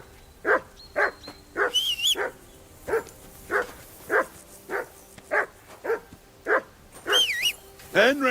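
A dog in the video game Kingdom Come Deliverance 2 barks in a steady series of about a dozen sharp, evenly spaced barks, with brief higher whine-like calls mixed in, fairly close and clear.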